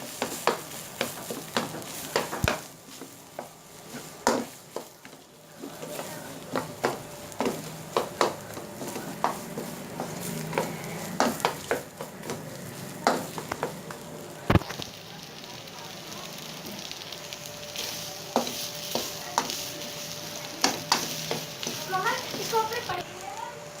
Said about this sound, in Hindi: अब इसके अंदर ये हरा धनिया, पुदीना डाल के मिक्स कर लेंगे।